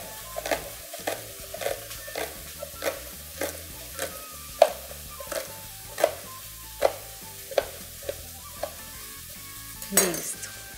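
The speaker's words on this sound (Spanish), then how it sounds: "Siempre que salteamos los vegetales, primero ellos empiezan a soltar todo su aroma." Vegetables and diced celery being sautéed in a pot for millet soup, with regular sharp scrapes of a spoon stirring roughly every half second over a faint sizzle, close and clear, no talking.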